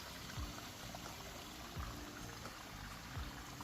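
Water runs steadily through a garden koi pond bog filter, a soft continuous trickle and splash close by with faint low gurgles, no voices over it.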